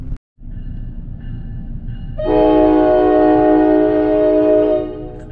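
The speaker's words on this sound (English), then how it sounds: "Here comes a northbound train. I think it's just leaving the station." A northbound double-decker commuter train leaves Long Branch station in New Jersey: a low rail rumble runs throughout, then a loud, sustained horn blast starts about halfway and holds for roughly two seconds before fading.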